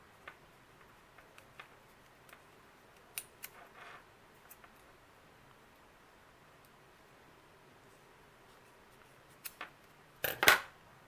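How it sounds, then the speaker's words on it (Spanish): Scissors trimming excess batting on a Waldorf-style doll head, with scattered faint snips and rustles in near silence, then a louder, quick cluster of cuts close by at the end. "Corto el excedente de guata que tengo acá."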